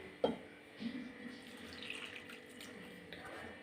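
Half a cup of water poured into dhokla batter, a short splashy pour at the start followed by a softer trickle and faint watery movement, close but quiet.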